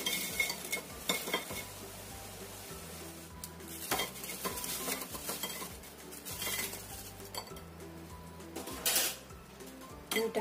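Snacks frying in oil in a pan are stirred with a utensil, giving soft repeated scrapes and clinks over a faint continuous sizzle, with no talk.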